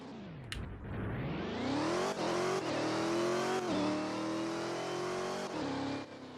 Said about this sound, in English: Let's try out my wide body Charger.